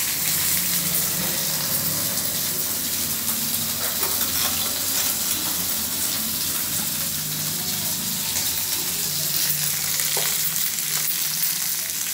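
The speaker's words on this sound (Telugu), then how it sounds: "ఈ వంకాయ ముక్కలు ఇవి చక్కగా ఇలా వేస్తూ ఉంటాయండి" Black eggplant pieces frying in a pan for a chutney, giving a continuous loud sizzle with occasional stirring clinks, close and dense without talk.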